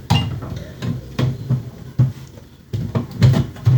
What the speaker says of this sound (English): Let's try a slightly more substantial screwdriver.